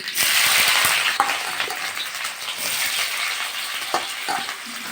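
Chopped onions hit hot oil in a pan for broccoli stir-fry, a loud dense sizzle with scraping stirring clicks and occasional utensil knocks, close and continuous without talk.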